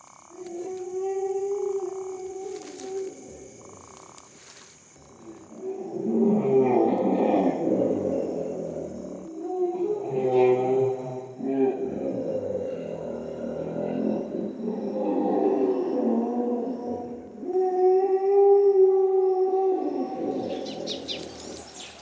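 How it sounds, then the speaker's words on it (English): Hippos fighting somewhere in the wild, sending out repeated deep, drawn-out bellowing honks that rise and fall over about twenty seconds. The calls are moderately loud and come with faint bird chirps in the background. "Hippos, you hear? They must be fighting."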